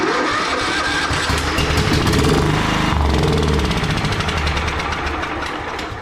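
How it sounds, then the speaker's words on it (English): A Scotts riding lawn mower engine runs loudly with a rough, rapid chugging rhythm, holding steady before easing off slightly near the end. "The engine is working because it has combustion"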